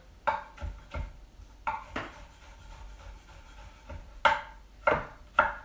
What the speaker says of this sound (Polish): cukinia, oczywiście wcześniej myta. Kroimy sobie kostkę.